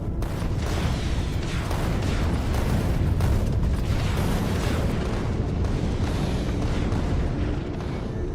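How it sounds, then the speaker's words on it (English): Turrets in the Factorio Space Age game fire on small asteroids, producing a dense, continuous barrage of rumbling booms and bursts that stays loud and steady throughout. "Oh, we are shooting the small asteroids as well."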